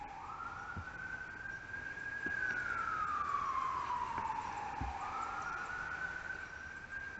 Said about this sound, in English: Sirens go on forever.